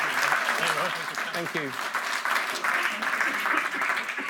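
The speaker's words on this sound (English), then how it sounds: "Give me a big round of applause." Sustained crowd applause, loud and dense throughout, with someone briefly speaking over the clapping.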